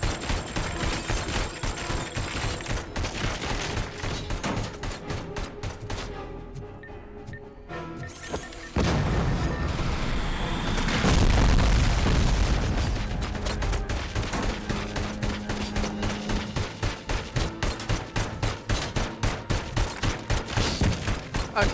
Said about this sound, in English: Oh, Jesus, it can fire rockets,